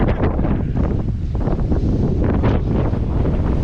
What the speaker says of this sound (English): The wind is coming in ahead of it now.